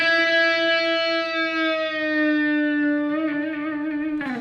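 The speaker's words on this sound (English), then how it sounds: "This is where you play the note and you're going to move the string up and down to change the pitch." An electric guitar with distortion and effects, a single sustained note bent so its pitch wavers up and down as the string is pushed, ringing loud and close with no talking.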